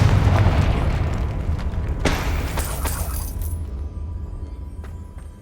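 A loud, booming Confringo blasting-spell explosion from Hogwarts Legacy erupts at once, with a heavy rumbling body, a sharp crackling burst partway through and a decaying tail of debris and ringing.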